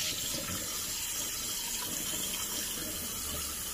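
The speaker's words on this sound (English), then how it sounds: "I'm going to rinse it off with some clear warm water" Warm water running steadily from a tap into a sink while a face mask is rinsed off, an even, close splashing rush that holds constant throughout with no talk.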